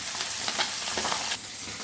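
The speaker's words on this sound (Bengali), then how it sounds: "মাছ ভাজা হচ্ছে, এই ফাঁকে আমি মশলাটা বেটে নেব।" Sarputi river fish fry in hot mustard oil in a pan, giving a dense, steady crackling sizzle that holds at an even level throughout with no talking.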